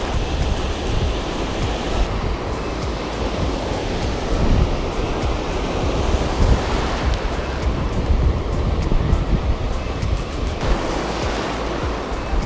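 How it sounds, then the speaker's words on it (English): Ocean waves break continuously on Jacksonville Beach, Florida, forming a loud, steady roar of surf with recurring swells and wind across the microphone, no voices. "turns out the ocean is super loud"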